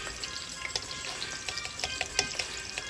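Rice for Spanish rice is stirred in a pot, soft scraping and clinks over a steady low simmering sizzle, close and fairly quiet.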